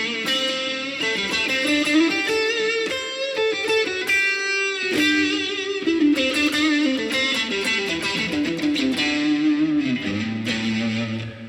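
Electric guitar played through a Quad Cortex clean amp model with an SD1 overdrive, a busy run of picked notes and chords with a gritty edge and steady volume, no voices.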